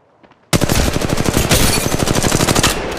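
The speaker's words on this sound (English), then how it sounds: "Getting shot at." Loud, rapid automatic gunfire in Apex Legends Mobile, a dense stream of shots starting abruptly after a brief quiet moment and continuing steadily without pause.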